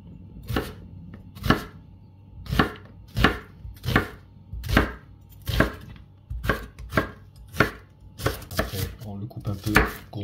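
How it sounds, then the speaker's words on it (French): A knife chops an onion finely on a board for a rice soup, sharp distinct strikes coming in an irregular rhythm about once a second, close and fairly loud, with brief pauses between groups of cuts. "On va tout simplement couper l'oignon"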